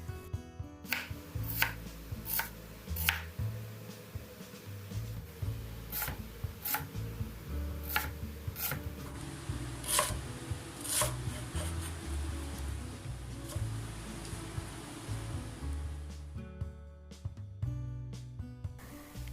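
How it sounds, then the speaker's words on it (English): An onion being chopped on a board, a steady series of sharp knife taps, sometimes quick and sometimes spaced out, close and clear over a low background hum before stopping near the end. "Chop the onion."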